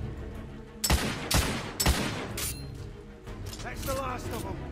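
Gunfire in The Order: 1886 video game, with several loud, sharp shots in quick succession over a steady background of game ambience and a voice speaking.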